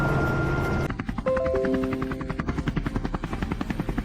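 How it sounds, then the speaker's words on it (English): A helicopter passes low and loud, its rotor chopping in a fast, steady rhythm that grows more pronounced as it draws near. "The helicopter swooped low, closing in fast."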